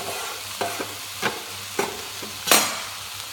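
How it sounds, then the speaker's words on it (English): Garlic stir-fried over high heat in a pan for a Thai basil stir fry, with a steady sizzle and several sharp scraping stirs of a utensil spaced about half a second apart, close and clear with no talking. "garlic only really needs about a minute to cook at this sort of temperature in this kind of dish"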